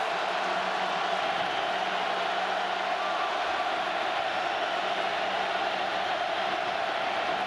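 A large football stadium crowd roaring at an Iowa at Ohio State college game, a steady, dense wall of crowd noise with no breaks, continuous and loud throughout.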